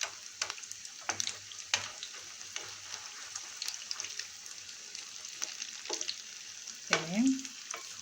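Cauliflower fries in oil in a pan, with a steady soft sizzle and a spoon occasionally tapping and scooping oil over the pieces, ending in a louder scrape.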